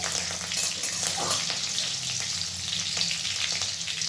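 Green chillies for cheese Maggi masala are stirred in a hot pan, producing a continuous close sizzle and hiss with occasional spatula movements.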